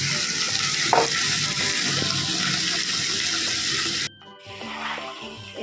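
Cabbage fries in a pan with salt and turmeric, a loud continuous sizzle with occasional stirring scrapes that drops off abruptly near the end, leaving a quieter hiss.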